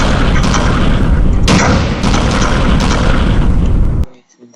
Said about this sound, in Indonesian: sekarang saya coba melakukan penembakan